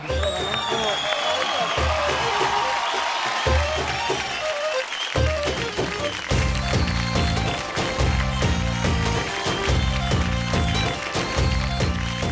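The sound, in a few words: audience applause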